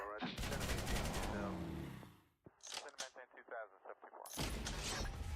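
Heavy artillery shelling in the online combat game Noobs In Combat (Cold Front map): dense, loud, overlapping blasts and rumbling bursts, a brief lull, then another heavy barrage crashes in.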